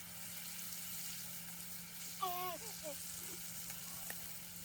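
Steak sizzling on a hobo stove out in an Idaho forest, a faint, even frying hiss running throughout, with a short bird call and a low steady hum underneath.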